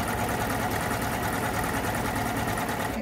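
A Baby Lock Euphoria coverstitch machine sewing a triple cover stitch, a steady rapid mechanical whirring and needle chatter running continuously at close range.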